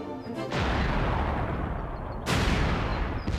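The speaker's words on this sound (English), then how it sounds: "We heard the booming of the artillery." Artillery fire during the Malayan Emergency: two heavy booming blasts, the second about two seconds after the first, each trailing off in a rumbling decay with no voices present.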